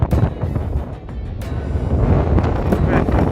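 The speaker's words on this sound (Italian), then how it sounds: "sentirà un po' di vento" Gusty wind buffeting the microphone at a mountain lookout in Sardinia, loud and roaring in uneven surges throughout.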